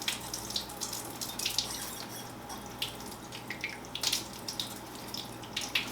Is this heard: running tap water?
yes